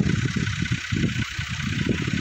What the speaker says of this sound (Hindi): ये है ट्यूबवेल, इसमें जो है ना ट्रैक्टर लगाया है